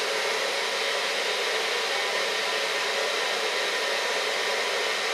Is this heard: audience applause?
no